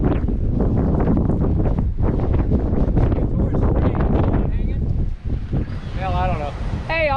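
Strong gusting wind roars steadily across the microphone on a wet morning of paragliding, with people talking over it throughout.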